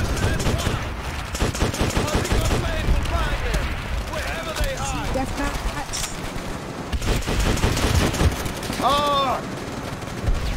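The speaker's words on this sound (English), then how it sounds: "It's a single shot M1 Garand, I think." Rapid bursts of video game gunfire, thought to be from an M1 Garand rifle, crack sharply and keep overlapping with voices and game effects as a man exclaims over the noise.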